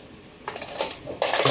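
A metal spoon clinks against dishes in a kitchen while pickles are prepared, with two bright bursts of rattling and tapping.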